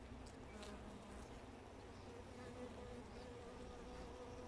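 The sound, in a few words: bees buzzing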